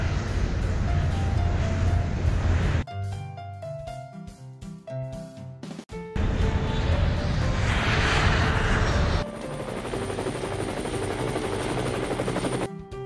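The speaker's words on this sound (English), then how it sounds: "we can travel in air by an aeroplane," An aeroplane roars loudly and steadily, broken midway by a short stretch of tonal musical sound before the jet-like engine noise returns, with no talking.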